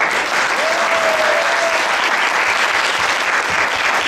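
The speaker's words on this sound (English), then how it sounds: "huge applause" Sustained applause from an audience at an evening panel event on animal rights, dense and steady throughout, with a brief tonal whistle-like sound early on.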